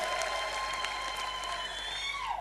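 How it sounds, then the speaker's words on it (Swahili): A crowd at a UDA party political speech by Cecily Mbarire breaks into steady applause, with a continuous wash of clapping and some tonal ringing running underneath. "Pigeni makofi jameni."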